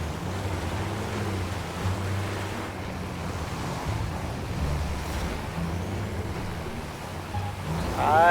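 Video game sea waves washing onto a shore in GTA 5, a continuous rushing surf mixed with wind and a low vehicle rumble, steady and moderately loud with no talking.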